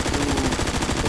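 AK-74SU assault rifle firing full-auto in the Phantom Forces shooter game: a loud, fast, unbroken string of shots with an even rhythm across the whole burst, no voices.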